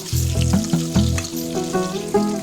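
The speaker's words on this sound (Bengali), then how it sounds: "তারপর সেই তেলেই এক এক করে আলুগুলো ছেড়ে ভেজে নিলাম, একদম লাল লাল করে ভেজে নিলাম" Potatoes fry in oil in a wok, giving a steady close sizzle with a few louder bursts as pieces go in, while tonal music plays alongside.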